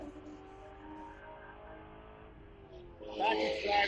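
A Spec Corvette race car at Chuckwalla Valley Raceway, its engine droning steadily under a commentator's voice, then a burst of harsh tire squeal and scrubbing as the car slides near the end.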